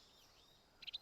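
In Metal Gear Solid 3, a bird sounds a quick pair of high, thin chirps right at the end, soft and alone over a faint background hush.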